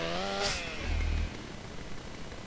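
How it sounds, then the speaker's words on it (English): A chainsaw runs in the video game GTA San Andreas, giving a quiet, buzzing engine sound with a brief rising rev followed by a low, steady idle. "Oh, chainsaw, chainsaw, chainsaw. It's time to play with chainsaw."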